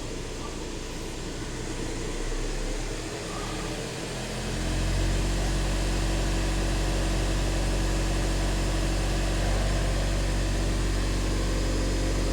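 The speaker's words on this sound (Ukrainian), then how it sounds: "Чути, як потік вихлопних газів проходить." A high-mileage VW Passat (500,000 km) runs after an emissions-system and EGR cleaning, its exhaust flow making a steady low hum that rises and settles into a constant drone after a few seconds.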